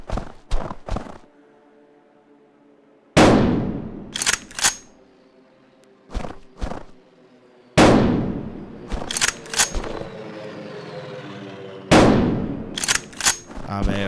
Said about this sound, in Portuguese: aqui o tiro é muito zoado